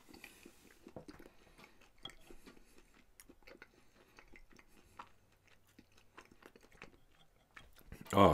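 Crunchy Golden Grill hash brown potatoes topped with ketchup being chewed close to the mic, faint intermittent crunches and mouth sounds, ending with a louder burst.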